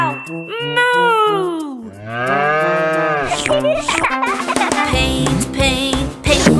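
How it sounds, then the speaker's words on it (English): A cartoon cow voice moos loudly in a children's nursery song, long drawn-out bellowing calls over musical accompaniment, with a brief bright chime between phrases. "I'm a cow. Moo."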